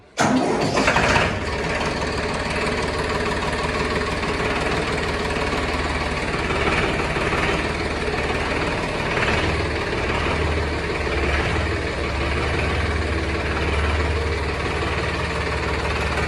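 A Farmtrac 30 Hero diesel tractor fitted with power steering cranks and fires up abruptly, then settles into a loud, steady, rumbling idle close by, sustained with no voices.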